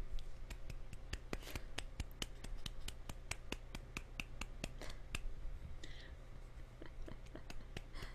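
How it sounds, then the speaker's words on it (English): Several participants on a Zoom call snap their fingers in place of applause. The snaps are sharp and irregular, spread over about eight seconds, and sound faint and thin over a low hum. "let's give Orchi some applause. Or snaps."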